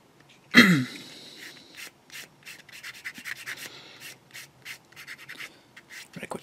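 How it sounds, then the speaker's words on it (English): A thump is followed by a series of short, gentle sanding rubs of a sanding stick on a plastic model tank, in an uneven rhythm, close and fairly quiet. "Let's get a sanding stick on that one."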